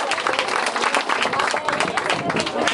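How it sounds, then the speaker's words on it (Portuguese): A crowd of community members gathered at a village mayoral breakfast event breaks into a full round of applause, dense steady clapping close and loud throughout with a murmur of voices mixed in. "Eu queria pedir aqui primeiro uma salva de palmas para vocês que estão aqui hoje."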